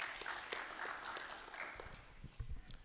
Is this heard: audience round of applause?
yes